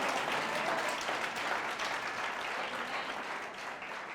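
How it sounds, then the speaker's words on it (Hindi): A congregation at a Hindi-language church sermon claps loudly and steadily, dense continuous applause from a crowd that tapers slightly toward the end, with no voices over it. "जोर से ताली बजाओ परमेश्वर को।"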